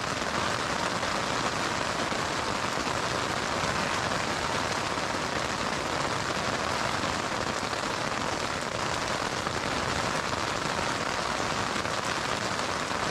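Heavy rain pounds on a tent at a Colorado Trail thru-hike camp, a dense, loud and unbroken patter heard close up from inside.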